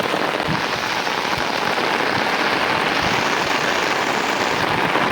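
Heavy rain pours steadily over a Bengal village, a dense, continuous hiss of drops on surfaces with scattered closer patters, loud and unbroken, with no voices.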